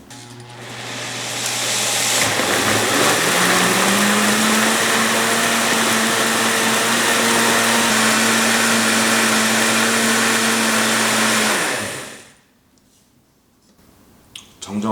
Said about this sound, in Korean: 저는 믹서기에서 한 1분 30초 정도 갈아주면 딱 좋은 것 같더라고요.